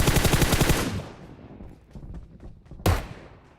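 Rapid automatic gunfire rattles in PUBG Mobile, a dense loud burst of shots that cuts off and fades, followed by scattered distant pops and one more sharp report near the end.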